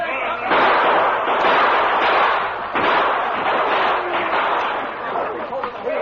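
Constant gunfire and explosive bursts rage through a frontier stockade battle in a Lone Ranger radio drama, a dense continuous roar of shots and booms with shouting voices mixed in throughout.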